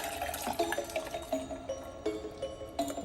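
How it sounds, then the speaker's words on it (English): Water tinted green with food coloring is poured steadily into a container, giving a continuous splashing and gurgling stream at close range with no talking. "then I'm gonna pour this green water in here"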